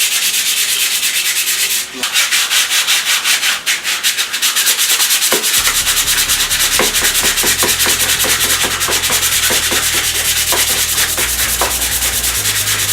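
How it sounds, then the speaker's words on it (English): Wet sandpaper rubbed back and forth along the exhaust pipe of a Ducati Monster 695, a loud, continuous, close scratchy hiss with rhythmic strokes and some lower thumps partway through. "you get the paper wet. And you just start rubbing down the pipe."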